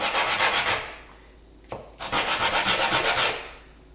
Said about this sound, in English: First thing I do is just rub each piece on sandpaper.